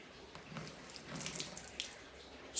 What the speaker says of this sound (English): So if I pour this water on the leaf there, Ellen, if you want to come in a little bit